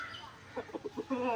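A rooster chasing a turkey gives a quick run of four or five close, clipped clucks, then a longer, louder squawking call at the end.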